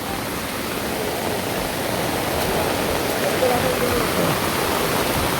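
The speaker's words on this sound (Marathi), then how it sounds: "पाणी म्हणजे भरपूर वाहत आहे" Heavy stream water rushing over rocks, a loud, continuous broadband roar with no pauses and no voices.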